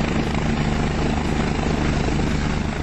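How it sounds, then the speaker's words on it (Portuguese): A helicopter landing on snow in the French mountains to rescue a skier gives off a loud, continuous rotor thrum and engine roar, steady and close throughout with no pauses. "Piloto de helicóptero finca a aeronave na neve para salvar esquiador."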